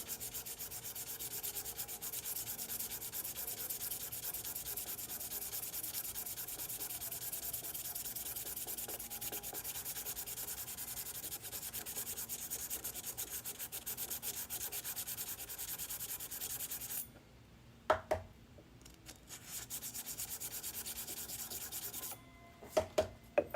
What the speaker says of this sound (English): The sandpaper gets clogged up really quickly with brass.